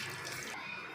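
Water splashes briefly and steadily over cut potatoes in a pressure cooker, a close, faint pour that cuts off partway through.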